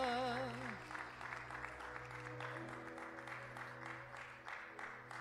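A church congregation at a Sunday worship service claps together in a sustained, moderately loud round of applause, with a held tone and a wavering voice at the start.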